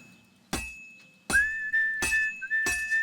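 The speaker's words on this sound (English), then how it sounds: "My character's whistling." A character in Kingdom Come: Deliverance 2 whistles a steady tune holding a sustained note, broken by loud metallic clinks of a hammer striking a heated sword at an uneven pace.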